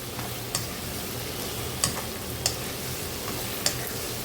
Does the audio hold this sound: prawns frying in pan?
yes